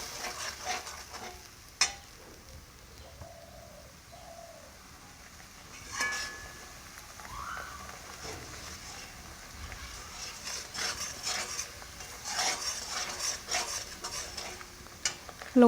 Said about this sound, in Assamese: এতিয়া ভালকৈ লৰাই এইখিনি তেল ফুটি উঠালৈকে ভাজিব লাগিব।